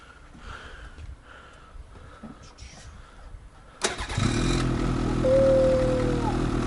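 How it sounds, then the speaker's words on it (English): A 2021 snowmobile's E-Tech engine cranks with a sharp burst and catches, then settles into a steady, fairly loud idle after a few quiet seconds of background shuffling and soft voices. "so let's start the sled"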